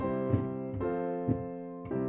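Piano plays a plagal cadence, I-IV-I: three sustained chords moving from one to another and back, played slowly and softly, each with a gentle attack, no voices.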